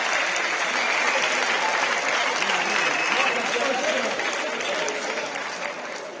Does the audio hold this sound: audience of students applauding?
yes